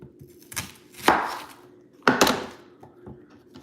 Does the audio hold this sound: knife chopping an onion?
yes